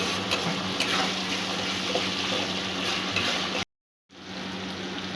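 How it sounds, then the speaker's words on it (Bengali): Spice paste fries in oil in a pan, a steady dense sizzle heard close and alone, broken by a sudden gap of silence before the sizzling resumes. "মশলাটা যতক্ষণ না তেল ছাড়ছে ততক্ষণ কষতে থাকবো।"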